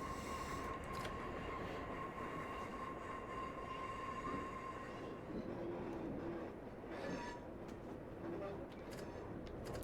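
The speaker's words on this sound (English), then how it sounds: "anyway, you go through a tunnel." A Class 143 diesel train running through a tunnel on the Barnstaple to Exeter line, a continuous loud rumble and roar with wheel noise and faint squeals throughout.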